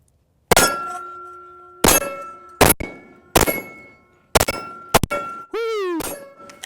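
An FN 510 Tactical pistol fires a string of about seven shots, each followed by a bright ringing clang from steel targets, the rounds spaced unevenly, the last ending in a wavering metallic ring; no voices.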